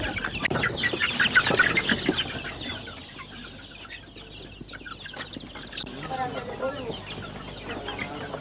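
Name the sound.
chickens clucking in small poultry house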